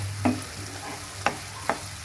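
Macaroni is stirred with salt in a pan, giving a few distinct scraping strokes against a low, steady background hum and faint sizzle.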